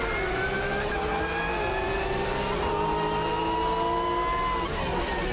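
A race car engine screams through an online race on the Nordschleife in the racing game AMS2. It is a loud, continuous whine whose pitch climbs and dips with gear changes, with no voices.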